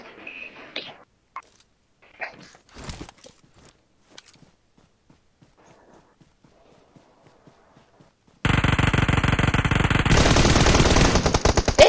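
Sparse clicks and thuds give way to a sudden, loud, sustained burst of rapid automatic gunfire in PUBG Mobile that continues to the end.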